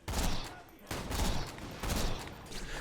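A sniper rifle fires double shots in the video game Borderlands 2. Three loud, sharp reports come about a second apart, each with a quick doubled crack and a short decaying tail.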